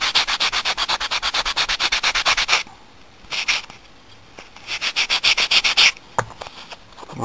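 Close, steady sanding of foam for a Pyramid Head prop, fast rhythmic back-and-forth rasping strokes that pause briefly and then resume in a second run of strokes.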